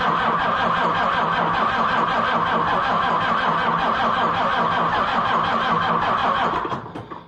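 A car engine cranks steadily on a NAPA Carlyle jump box in cold weather, the starter turning over with a fast, even rhythm for about seven seconds without catching, loud and close, then cutting off.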